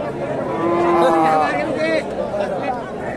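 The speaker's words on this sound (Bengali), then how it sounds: "এখানে একটা গাভী দেখেন, দেশি গাভী, সুন্দর গাবি, বেশ মাঝারি সাইজের গাবি, দেশি গাবি।" A local desi cow, a medium-sized cow at a rural cattle market, gives a drawn-out moo close by while someone talks over it and market chatter hums behind.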